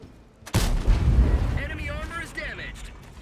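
A tank shell strikes and ricochets in World of Tanks, with a Kranvagn in the match: one sudden heavy boom followed by a rumbling tail, with a voice talking over the aftermath.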